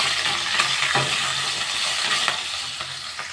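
Ragi upma ingredients with green chillies, cashews and curry leaves being stirred in a hot pan: a steady, close sizzle of frying with occasional scraping knocks of the spatula.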